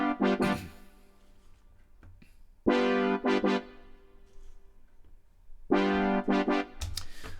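A reggae brass lick with variation plays in short bursts: a quick stab, then two longer punchy figures separated by quiet gaps, bright and close.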